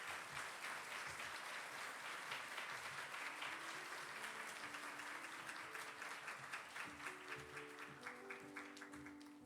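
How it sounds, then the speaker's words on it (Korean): Church congregation at a Sunday worship service clapping warmly to welcome a member forward, sustained dense applause with a faint musical tone underneath, thinning into more distinct individual claps toward the end. "네, 우리 박수로 맞이하도록 하겠습니다."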